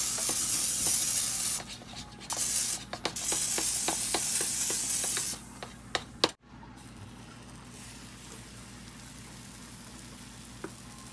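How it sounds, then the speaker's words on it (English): A broad hissing spray of cooking spray with short bursts onto a waffle maker before batter goes in, followed by quieter crackling and a few clicks near the end. "I'm gonna spray this with some cooking spray"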